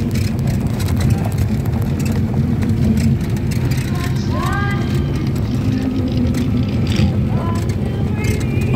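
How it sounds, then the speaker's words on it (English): Steady low engine drone and road rumble inside a 1948 Chrysler Windsor Club Coupe on the move, continuous and fairly loud with faint squeaks over it. "This is a 1948 Chrysler Windsor Club Coupe."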